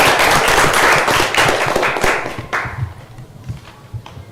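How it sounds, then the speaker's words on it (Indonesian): Loud, dense clapping fills a classroom, then thins out and fades to a few scattered claps. "Tepuk tangan dulu untuk Nona Siren."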